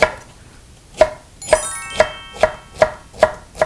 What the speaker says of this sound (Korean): 채소는 먹기 좋게 채 썰어주시면 돼요